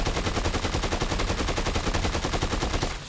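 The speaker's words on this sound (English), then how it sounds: "Just use their guns." Rapid, continuous automatic gunfire from enemy guns in Dead Rising 2, loud and steady bursts running the whole time with no talk.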